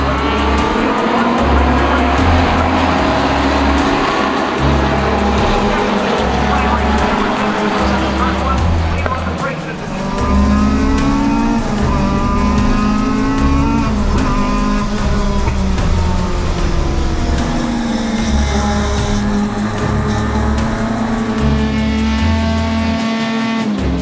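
Race cars roaring around a track in the final race of a weekend with an 11-car reverse grid, loud engines rising and falling through gear changes with occasional tire squeal, under steady commentary talk.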